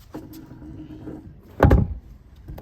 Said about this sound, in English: Let's try to close the door now.